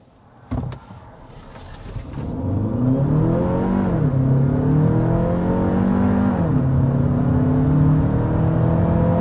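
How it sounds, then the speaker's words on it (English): A 2026 Hyundai Palisade Hybrid SUV engine revs up hard and holds a strong, rising drone as it accelerates uphill, after a brief clunk at the start; loud and close, no talking. "we've got to start with that hard acceleration"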